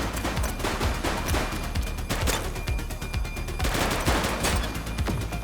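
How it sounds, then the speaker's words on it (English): Gunfire in the police game The Precinct comes as rapid, dense bursts of loud shots, close and continuous, like automatic weapons trading fire. "He's shooting!"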